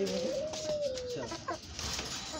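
Hens on a small backyard farm give a couple of close, clear clucking calls with a rising and falling tone, set against light outdoor ambience.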